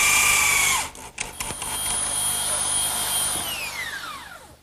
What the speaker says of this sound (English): I think I'll fasten this member with a screw because it'll hold better